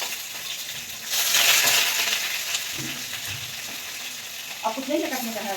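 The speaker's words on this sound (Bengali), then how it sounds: "এখানে চিকেনটা ভালো করে ভেজে নেওয়া হচ্ছে যতক্ষণ না লাল হচ্ছে" Chicken pieces sizzling in a hot pan for homemade chicken soup, a dense hiss that swells loudly for a moment and then settles, with a few knocks and scrapes near the end.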